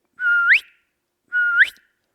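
Two clean whistled calls, each a long steady low note that slides quickly up to a short higher pitch at the end, mimicking a goose honk call as practice; close and alone with no talk.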